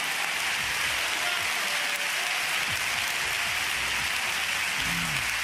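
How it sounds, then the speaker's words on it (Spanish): Church congregation applauding during a Pentecostal sermon, a dense, even wash of clapping that holds steady for several seconds, moderately loud with no voices over it. "Un aplauso tan fuerte como nunca se lo ha dado al Señor."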